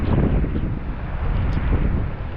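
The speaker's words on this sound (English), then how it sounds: "We've had gusts of up to 50 knots." Strong cyclone wind gusting to about 50 knots roars and buffets the microphone in heavy continuous gusts, a deep rumbling rush with no voices.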